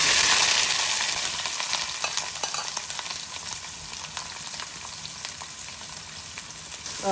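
Cut shallots and fennel seeds fry in hot oil with a loud, dense crackling sizzle that runs steadily throughout, broken by occasional clinks and scrapes of stirring, with no talk.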